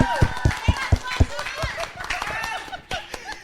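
An audience at a talk show clapping hands, a brief burst of sharp, loud claps at a steady beat under overlapping voices and chatter.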